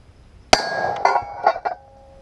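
A rifle shot strikes a half-pound bag of homemade Tannerite mixed in a blender, and the target fails to explode: one sharp crack, then several quick metallic clinks and ringing tones that fade out.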